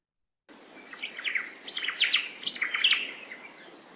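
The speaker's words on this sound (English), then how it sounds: "So among the natives, we have the oma'o, or the Hawaiian thrush." A Hawaiian thrush (oma'o) sings a run of bright, warbling phrases with quick chirps and trills, close and clear over near silence after a short quiet start.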